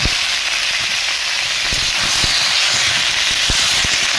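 Green plantain and potato pieces fry in hot oil with onions and chillies, giving a loud, continuous close-up hiss of sizzling with a few soft knocks from the pan.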